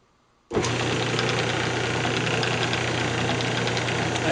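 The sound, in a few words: wood lathe spinning a natural edge bowl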